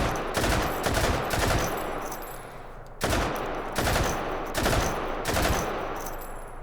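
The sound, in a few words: RPD machine gun firing in Hot Dogs, Horseshoes and Hand Grenades video game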